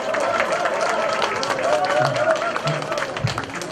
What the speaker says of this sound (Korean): 여러분 큰 박수로 환영해 주시면 대단히 감사하겠습니다.